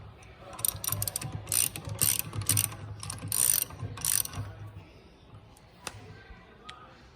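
Wrench ratcheting as the nut on a Max Prop Classic propeller is tightened, with several quick bursts of sharp metallic clicking close up, then a few isolated faint clicks and knocks.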